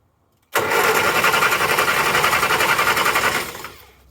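The engine of a rat-rod Morris Minor cranks on the starter, triggered from the engine bay, a loud, fast, rhythmic whirring chug that runs about three seconds without firing, then winds down.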